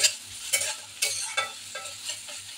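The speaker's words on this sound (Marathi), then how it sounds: "कांदा मस्त आपल्याला कलर येईपर्यंत फ्राय करून घ्यायचा आहे." Chopped onion frying in a pan over slow-medium flame, a steady sizzle broken by regular stirring strokes about every half second, close up and without speech.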